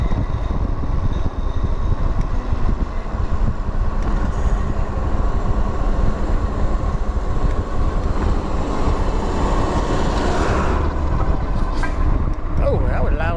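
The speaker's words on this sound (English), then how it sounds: "Uh-oh, got a tractor coming," A farm tractor passes by on a road, a loud, steady engine roar and rumble filling the scene, swelling as it draws close and then easing away, with wind noise throughout.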